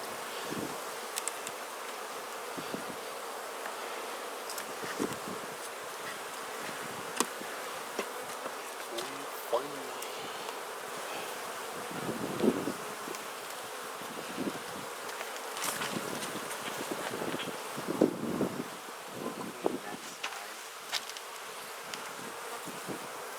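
Honeybees buzzing around an open Langstroth hive during an outdoor inspection, a dense continuous drone with individual bees passing close, light wind and rustling underneath.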